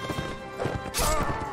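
Horse hooves clip-clop in rapid rhythm in Mount and Blade: Warband, close and fairly loud, with a crash-like burst of noise near the end.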